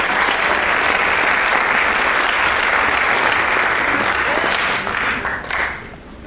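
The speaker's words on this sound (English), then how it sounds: "Give a round of applause." Sustained audience applause at a leadership summit, loud and steady for several seconds before tapering off at the end.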